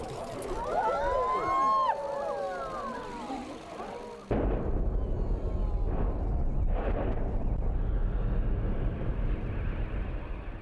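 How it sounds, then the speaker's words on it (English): Controlled explosions bring down the three remaining cooling towers of Didcot power station, a sharp blast giving way to a deep, sustained rumble of collapsing concrete that carries on loud and broad with a few fainter bursts. "it took just seconds for the power station's three remaining cooling towers to be flattened"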